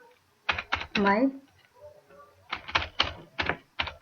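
Bursts of clacking keystrokes on a computer keyboard come in short clusters, with someone speaking briefly between them in a quiet room.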